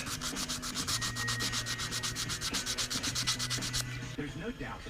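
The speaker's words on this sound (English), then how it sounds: "Get all the foul marks out, get them sanded smooth and ready for paint." Rapid, rhythmic back-and-forth strokes of 320 grit sandpaper rub on small 1/64 scale Peterbilt model parts, a close, fairly quiet scratching that repeats steadily for about four seconds before stopping.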